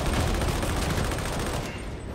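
Rapid automatic gunfire in Warhammer 40k Darktide, a dense close burst of shots rattling for about two seconds before tapering off.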